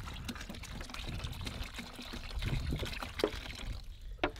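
Water pours from a gallon jug into a backyard bass pond, a soft splashing trickle at close range that continues for a few seconds with a couple of louder splashes near the end.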